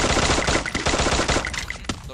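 Gunfire in the Free Fire video game, a dense, loud stretch of rapid automatic shots and crackling bursts running continuously throughout.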